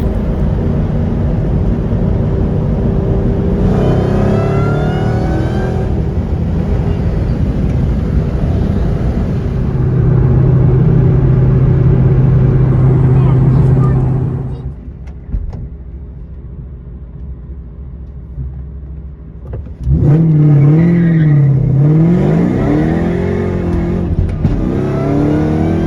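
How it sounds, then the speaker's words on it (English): A Ford Mustang with a supercharger accelerates hard, its rising engine roar and whine climbing in pitch, dropping off to a quieter idle, then revving loudly again near and unaccompanied by talk. "Let's hear this supercharger scream."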